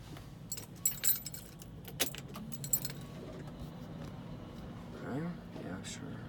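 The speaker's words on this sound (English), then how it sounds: "Let me turn on the truck." Keys jangle close by as a truck is started, followed by a low engine hum continuing underneath while someone talks intermittently.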